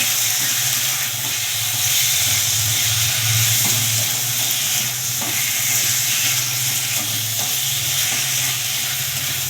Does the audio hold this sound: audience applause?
no